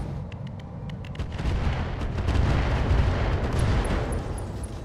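Mech weapons firing in the mech combat game Roguetech, a loud, dense barrage of booming cannon and missile blasts with sharp gunfire cracks, building into a continuous rumbling roar.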